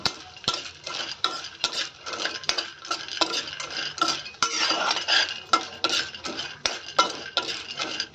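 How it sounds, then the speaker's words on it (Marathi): Lentil vadas shallow-frying in a little oil, a spatula repeatedly scraping and clinking against the pan in quick rhythmic strokes over a faint sizzle, no talking. "अगदी थोड्या तेलावर हे भाजून घ्यायचेत आपल्याला."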